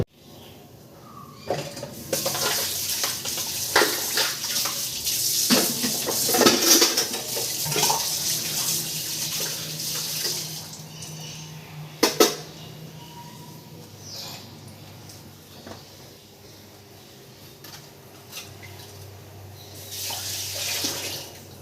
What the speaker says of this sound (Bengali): বাসন অল্প ধুয়ে নিলাম